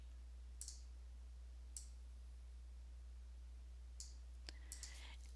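A few sharp, faint computer mouse clicks, spaced irregularly, in a quiet room with a steady low hum, while chemistry kinetics lab data is entered on a computer.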